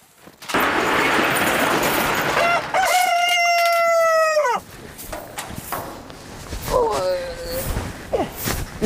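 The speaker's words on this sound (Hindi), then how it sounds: "मुर्गे सुबह सुबह भांगे दे रहे हैं" A rooster crows in the morning: one long, loud, drawn-out crow, then shorter, fainter calls, all over a rough, noisy outdoor background.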